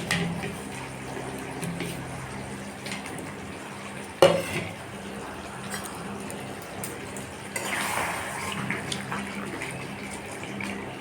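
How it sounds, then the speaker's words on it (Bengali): Fried potatoes being stirred into chicken curry in a pan over a high flame: a continuous oily sizzle with spoon scraping, a sharp metallic clank partway through, and the frying growing louder near the end. "আলু দিয়ে আমি ফ্লেমটা একটু হাইতে করে নেড়ে ছেড়ে দিচ্ছি।"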